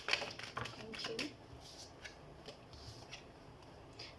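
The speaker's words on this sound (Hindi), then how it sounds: "हम कार्ड शफल कर लेते हैं" Tarot cards shuffled by hand for a weekly reading, giving soft riffling and flicking bursts that are strongest early on and then fade to quieter rustles, with low background noise.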